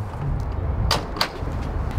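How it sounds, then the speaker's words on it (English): The rear barn door of a box truck converted into a tiny home is latched with two sharp metallic clunks in quick succession over a low background rumble. "So I'm just gonna latch this door real quick."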